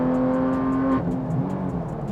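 A Porsche GT3 Touring's 4.5-liter engine drones through the cabin with a steady tonal hum that drops in pitch after a second, while a faint rhythmic ticking sounds above it.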